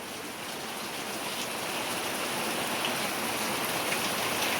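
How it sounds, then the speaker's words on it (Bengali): Steady rain falls continuously on a house with a broken roof, a dense hiss of drops pattering on surfaces, with no voices. "হয়তো এই ঘরেও বৃষ্টি পড়ছে"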